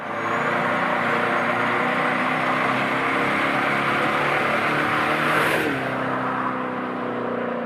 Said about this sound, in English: That's why that new EV got that fake V8 sound